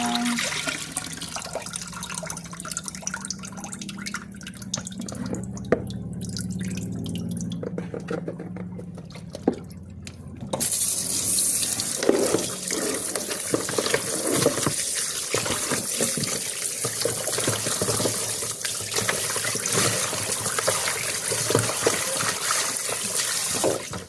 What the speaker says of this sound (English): So now I'm just gonna wash them off. Wash off the lime juice off of it